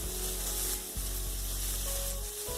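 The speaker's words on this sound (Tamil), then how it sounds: "வெங்காயத்தையும் சேர்த்து நல்லா வதக்கிக்கோங்க" Onion sautés with chana and urad dal in a pan, a loud, dense sizzle that runs without a break, with two soft stirring bumps.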